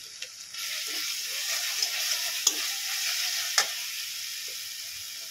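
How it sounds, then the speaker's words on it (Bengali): Ground spices such as coriander, cumin and Kashmiri chilli powder fry in oil for potol korma, making a steady close sizzle while a spoon stirs and scrapes the pan with a few sharp clinks. "ভালো করে মশলাটা কষিয়ে নেব।"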